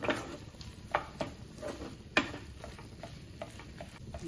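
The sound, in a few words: stirring and mixing vada pav potato filling in a pan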